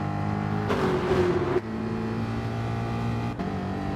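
Race car engine in Gran Turismo Sport, droning steadily, then a louder burst as the throttle opens before easing off again, with another brief dip in revs near the end; no talk.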